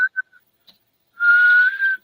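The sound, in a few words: imitated bird whistle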